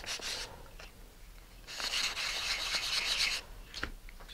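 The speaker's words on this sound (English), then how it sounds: "So you can just sand them and make sure that all the fins have the same shape." Stacked Texas Twister fins are sanded together in short, raspy rubbing strokes, one long stroke in the middle, quiet and close with no talking.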